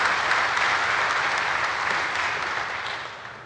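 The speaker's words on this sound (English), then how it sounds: "I'll tell her you clapped." Church congregation clapping together in a dense, even wash of applause that holds steady and then fades slightly toward the end, with no voices on top.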